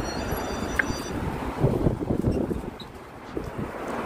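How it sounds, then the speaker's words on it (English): Strong wind buffets the microphone on a Brooklyn street near Avenue T and Sheepshead Bay, a loud, gusty rumbling roar that swells and eases over a few seconds with no speech. "It's windy. It's really windy."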